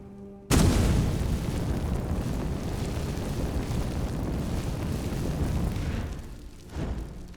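A fire spell in Skyrim burning a body ignites with a sudden loud whoosh, then settles into a continuous roaring blaze that holds steady for several seconds before tapering off near the end.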